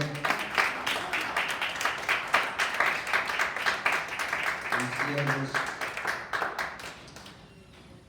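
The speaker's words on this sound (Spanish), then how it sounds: "¿Por qué no le da un aplauso al Señor?" Church congregation clapping for the Lord during a Spanish-language service in Orange, dense and steady under a preacher's voice, then thinning out near the end.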